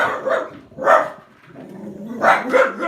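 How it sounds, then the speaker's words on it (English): Dogs bark in repeated bursts, loud and close, with pauses between volleys and no talk over them. "Dogs."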